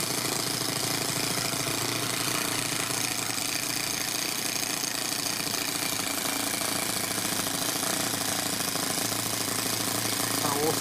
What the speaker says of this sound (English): Nice little running motor. It's running really rich.